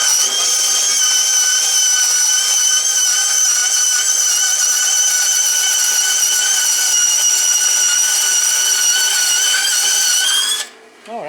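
A Delta saw converted for metal cutting and running on a DC motor saws through half-inch thick steel at slowed speed, giving a loud, sustained high-pitched whine that holds steady before abruptly cutting out near the end.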